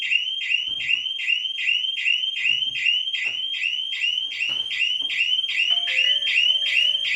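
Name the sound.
security system alarm going off when the door sensor opens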